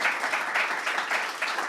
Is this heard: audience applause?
yes